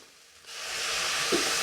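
Hot water is poured into a pot of cooking mixed dal khichdi, setting off a sudden, loud, steady steam hiss that swells and holds to the end after a brief quieter lead-in.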